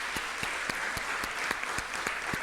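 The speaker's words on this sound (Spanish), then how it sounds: "Démosle un aplauso a los hermanos." Church congregation applauding its members during a Spanish-language service, steady clapping all the way through with a few sharper claps standing out.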